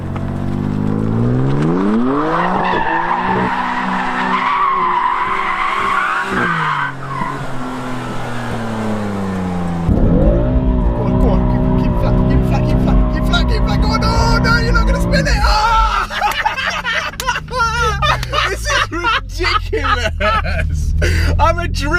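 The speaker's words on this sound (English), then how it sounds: "Oh my god, that's the sickest drift ever." A new BMW M3 drifts with long, loud tire squeal over a revving engine, the screech sustained then breaking into choppy bursts as the car slides; excited voices talk over it.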